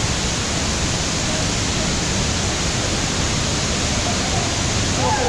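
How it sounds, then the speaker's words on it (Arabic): A large waterfall in Bali roars as a steady, dense wash of broadband noise, loud and close, with no other sounds breaking through. "هو الشلال الكبير"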